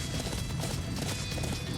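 Horse hooves galloping steadily in the Attack on Titan Wings of Freedom video game, a dense, continuous rapid clatter of hoofbeats heard up close, with no talking.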